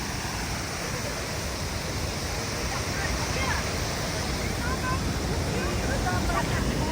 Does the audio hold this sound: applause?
no